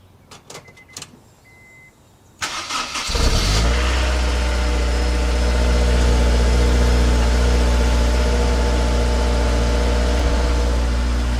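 A Subaru BRZ engine fires up after a few faint clicks, then settles into a loud, steady idle that drones on evenly with no talking.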